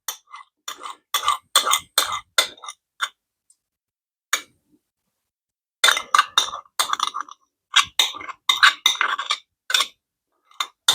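Bursts of light metallic clinks and scrapes from a utensil scraping plantain salve off plates, in clustered rapid taps with a long quiet gap between two active stretches.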